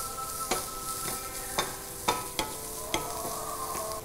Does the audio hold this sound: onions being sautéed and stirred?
yes